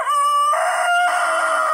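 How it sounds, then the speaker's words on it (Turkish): A Sussex rooster crows once, loud and close, a drawn-out cock-a-doodle-doo heard on its own. "Artık horozumuz ötüyor."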